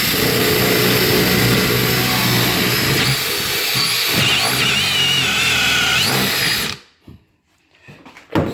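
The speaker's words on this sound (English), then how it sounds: "now I gotta drill a few holes here" A power drill bores holes into a kitchen countertop, whining loud and steady for several seconds before cutting out, with faint handling noises after.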